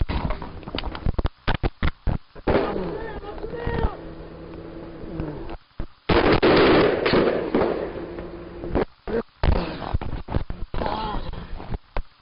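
Gunfire during a police confrontation in Conroe, Texas, heard as loud, sharp bangs in rapid bursts, some clustered and some spaced apart, recorded close by, with shouting and speech in between.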